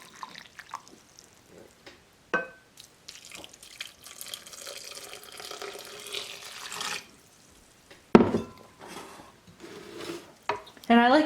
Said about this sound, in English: now I'm going to add 3 cups of warm water that I've already heated up to 80